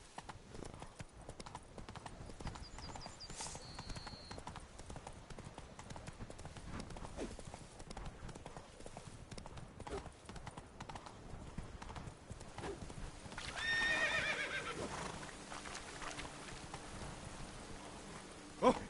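Roach the horse trotting and galloping in The Witcher 3, a continuous run of hoof clip-clops under rain-like patter, with a brief neigh midway and a sharp sound at the end, no talk.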